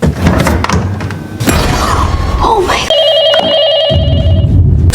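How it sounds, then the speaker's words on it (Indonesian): A telephone in a kitchen rings in a scene from the horror film Scream 7, a bright electronic trill repeating near the end after thuds and a rising swell of film score and effects. "menjawab telepon yang tiba-tiba berdering"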